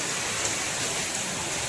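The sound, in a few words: heavy rain and flowing water on flooded village road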